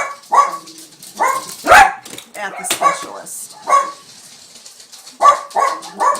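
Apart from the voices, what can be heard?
dogs barking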